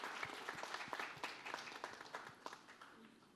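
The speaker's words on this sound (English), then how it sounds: "A round of applause for these girls, please." A fashion tour show audience claps for the models, giving scattered, crisp applause that sounds faint and distant and fades slightly toward the end.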